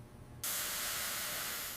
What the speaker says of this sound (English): Steam meeting cold water condenses suddenly, creating a low-pressure vacuum in the can.